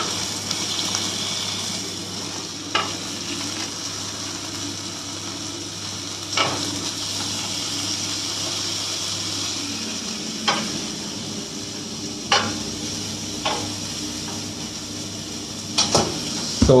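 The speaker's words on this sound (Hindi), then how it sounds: "इसको थोड़ा सा साइड से भी पकाएंगे हम।" Chaap cooks in a pan with a steady sizzle throughout, broken by a few sharp scraping or stirring clicks, close and moderately loud, with no talking.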